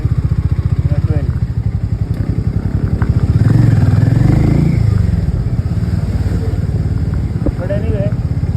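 A Harley-Davidson X440 single-cylinder motorcycle engine runs with a steady low thumping pulse, swelling louder in the middle as it pulls, then settling back to a rhythmic idle-like beat, with a voice talking over it.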